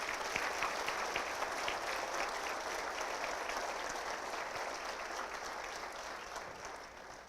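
Steady applause from an audience at a State of the City address, a dense, even wash of clapping that holds throughout and tapers slightly at the end.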